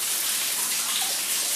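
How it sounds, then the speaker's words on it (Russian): Underground water trickles and flows downward inside a fortification tunnel, a steady close splashing rush without pause. "А это все вода идет ниже."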